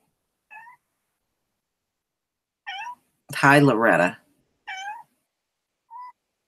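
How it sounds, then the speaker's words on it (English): A pet cat gives several short, clear meows spaced a second or two apart, with one longer, louder wavering meow in the middle; a person speaks briefly around them. "My kitty is here."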